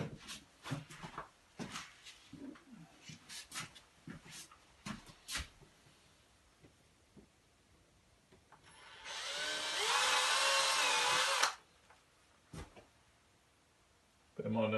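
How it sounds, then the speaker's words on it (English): Scattered knocks and handling noises give way to a power drill whirring loudly for a couple of seconds, its pitch wavering as it bites, then stopping. "Get the drill."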